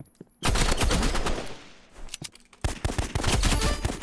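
Bursts of rapid gunfire in a Roblox shooting game, loud and close, with dense volleys that pause briefly around the middle before resuming in sharp repeated shots.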